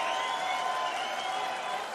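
A crowd in a big hall at the 2023 Belgian Darts Open in Wieze, heard as a steady, dense wash of applause and cheering that fades slightly at the end.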